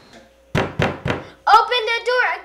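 Three sharp knocks on a door land in quick succession, close and loud, followed at once by a shouted voice.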